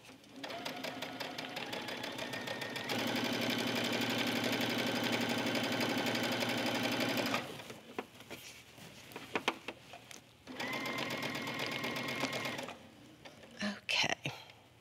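A sewing machine stitches a facing seam on a pompom-trimmed cover-up in long, fast, steady runs, stopping and restarting several times with short pauses between bursts.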